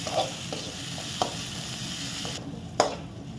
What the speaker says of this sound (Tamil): இஞ்சி பூண்டோட பச்சை வாசனை போகிற அளவுக்கு வதக்கிக்கலாம்